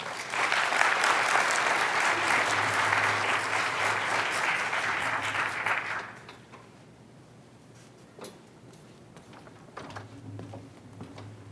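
A plenary session audience applauds to welcome a speaker, a dense, steady clapping that lasts about six seconds before fading into quiet room noise with a few small knocks.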